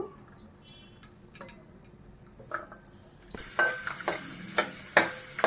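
Garlic cloves frying in oil for ajwain rice, a faint sizzle with light ticks that grows louder and busier partway through, with sharp clinks and stirring near the pan.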